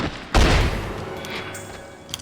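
A single heavy gunshot boom from the video game The X-Files: Resist or Serve, loud and close, with a long fading tail and faint clicks afterward, and no talk over it.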